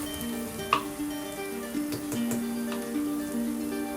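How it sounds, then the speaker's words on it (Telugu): Onion masala with turmeric sizzles steadily in a pan, a close, even frying hiss with a few faint stirring clicks and no talk. "పచ్చివాసన పోయేంత వరకు ఫ్రై చేసుకోవాలి."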